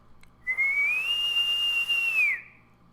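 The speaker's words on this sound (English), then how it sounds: "The shrill whistling grew louder." A single shrill whistle rises and then holds a sustained high tone for about two seconds before cutting off, clear and loud against near silence, used as an eerie sound effect in a ghost story.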